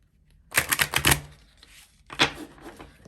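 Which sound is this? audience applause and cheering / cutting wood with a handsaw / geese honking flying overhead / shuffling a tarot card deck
shuffling a tarot card deck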